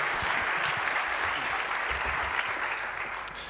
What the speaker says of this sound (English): Please welcome him with a huge round of warm applause